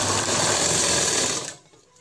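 A sewing machine runs in a fast, continuous buzzing whir while stitching a dhoti shalwar seam, loud and close, then stops abruptly near the end, leaving quiet.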